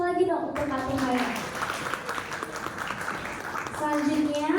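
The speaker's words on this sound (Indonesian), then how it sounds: "Beri tepuk tangan sekali lagi dong untuk Kak Tirhaya." An audience at a presentation session gives a round of applause for a speaker, a dense wash of clapping swelling over a few seconds, with a voice speaking at the start and end.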